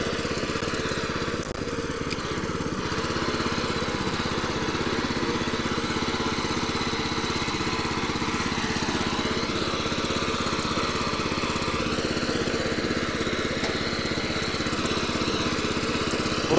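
A 6.5 hp petrol weeder with an 18-inch-wide cutter runs steadily at close range, its small engine droning with a constant buzzing vibration throughout, no voices over it.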